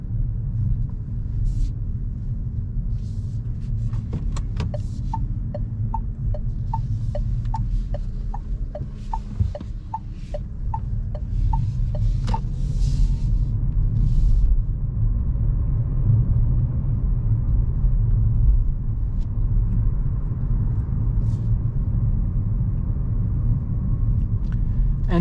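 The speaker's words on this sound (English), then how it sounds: "Now the B mode, see the car is slowing down," A facelifted 2024 Renault Clio hybrid decelerates in B mode at night with no brakes applied. A steady low road and drivetrain rumble fills the cabin, with a short run of light, regular ticking clicks partway through.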